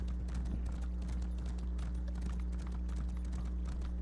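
Horse hooves clip-clop in a steady, quick rhythm in the video game Oblivion, faint and even over a low constant hum, with no talking.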